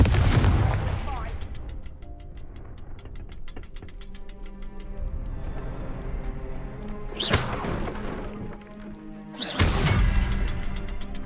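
A Confringo spell goes off in Hogwarts Legacy: a heavy blast at the start leads into ringing, ticking magical tones, and two more sharp explosive hits land later, loud and close.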